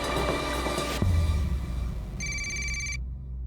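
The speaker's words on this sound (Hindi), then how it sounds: "घंटी की आवाज आ रही है अंदर से" A telephone rings with a bright electronic trill, cutting in and out over background noise before stopping abruptly.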